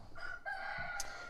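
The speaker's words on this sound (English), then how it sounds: "there's the other rooster that she does not like outside" A farm rooster crows once, close and loud, a drawn-out cock-a-doodle-doo lasting about a second with a brief cluck near its end.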